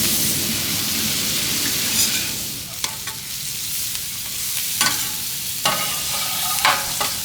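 Onions cook on a flat-top griddle in one continuous, steady sizzle, with sharp scraping clicks from a spatula as they are stirred and turned. No one speaks.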